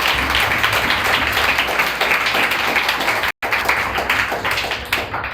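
Church congregation applauding together during a Sunday service, a dense, continuous wash of clapping at steady loudness from start to end, with a momentary break partway through.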